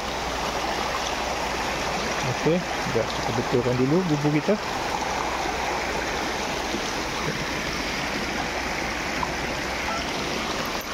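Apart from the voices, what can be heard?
fast-flowing river water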